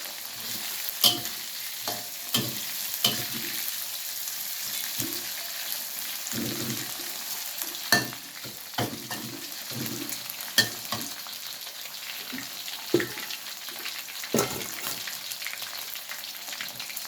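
Grasshoppers frying in hot oil until crispy, a steady sizzling hiss punctuated by irregular clinks and scrapes of a utensil stirring the pan, close and moderately loud with no talking.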